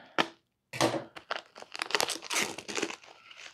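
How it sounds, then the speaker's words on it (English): Scissors cut open foam packaging with crinkling, tearing and snipping sounds, close up and loud, in a run of irregular bursts after a brief pause. "we'll grab our scissors here and cut this foam open."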